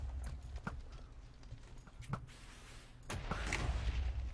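Faint, uneven hoofbeats of a horse galloping in a video game, a scattered series of soft thuds that swells slightly toward the end, with no one talking.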